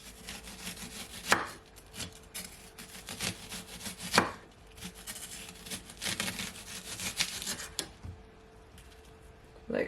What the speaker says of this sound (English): So now I'm gonna cut my onions. And you want to just cut it very thinly,